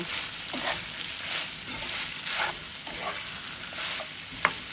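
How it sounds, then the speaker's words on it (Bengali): Chicken frying with onions and sugar in a pan, a steady close sizzle with soft stirring scrapes and one sharp clink near the end, no talk. "এখন আমি এটাকে খুব ভালোভাবে মিক্সড করে ফেলব।"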